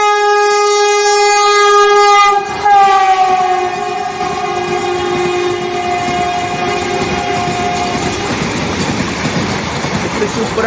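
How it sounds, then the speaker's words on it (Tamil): A Vande Bharat express train blares a long horn with strong harmonic tones for about eight seconds while crossing a station, then keeps rushing past loudly with rumbling wheel noise and no talk. "எல்லா ஸ்டேஷனையும் கிராஸ் பண்ணும்போது ஒரு லாங் ஹாரன்"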